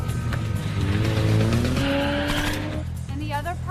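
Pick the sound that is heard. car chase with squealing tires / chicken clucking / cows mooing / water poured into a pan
car chase with squealing tires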